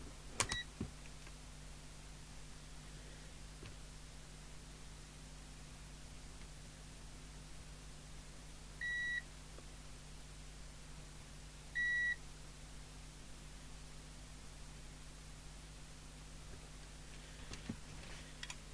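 A multimeter gives two short, clear continuity beeps a few seconds apart, set against a faint steady hum and hiss while a UK CB radio is serviced. A few soft clicks come at the start and end.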